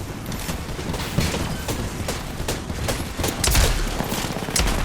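Gunfire from the video game Apex Legends comes in loud, rapid bursts of shots, close and dense, with mechanical clatter and no talk.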